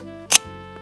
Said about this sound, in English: Now that's what I call a shutter release.